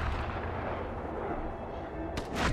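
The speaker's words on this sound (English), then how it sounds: "I'm gonna shoot you" A gunshot in the Red Dead Redemption 2 video game, one sharp crack near the end of a low, rumbling game ambience.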